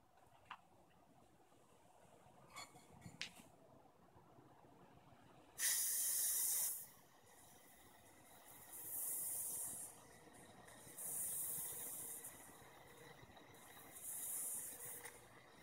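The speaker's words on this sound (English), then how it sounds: "while spraying, you don't want to spray directly and close to it or far away" An aerosol spray can fires a sharp hissing burst, then several more spaced hisses, each lasting about a second, close and loud against a quiet room with faint clicks.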